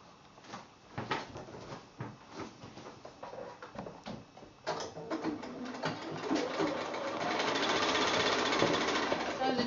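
A sewing machine stitches the longer side strips onto a quilt block, starting with short bursts and stops, then running in a steady, fast, close whir toward the end.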